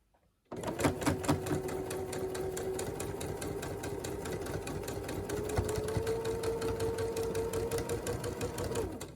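A sewing machine top stitches fabric for a face mask, starting abruptly and running in one continuous, fast mechanical whir with a steady tick of the needle, close and alone without talk.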